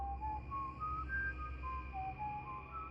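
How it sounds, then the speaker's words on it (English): An eerie whistled melody of slow wavering notes drifts over a low rumbling background hum, faint and a little distant, without any talking. "and then the whistling began."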